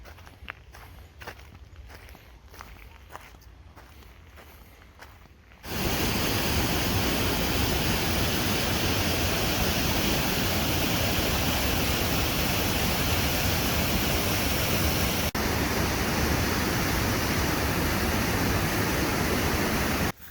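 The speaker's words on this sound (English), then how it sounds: "that giant tunnel back there, the house of Pennywise the Clown, is where the water's coming from" Steady, loud rush of water pouring and churning out of a giant tunnel as a waterfall, a dense roar that holds constant after a few seconds of quieter footsteps and ambience.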